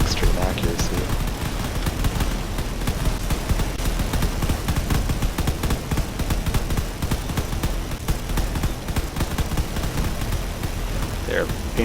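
Rapid cannon fire crackles continuously in a drone battle video game, dense bursts of gunfire layered over engine noise and a narrating voice.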